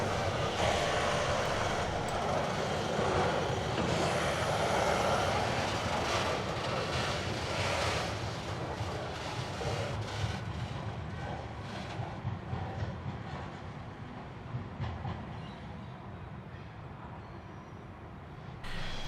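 A Pacific National freight train hauled by several locomotives rolls across a bridge near High Marsh Park, a sustained loud rumble of engines and wheels that slowly eases off as it passes.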